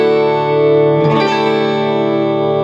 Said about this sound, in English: We're going to do it in drop D tuning, drop the E down to a D, and you're going to pick the third string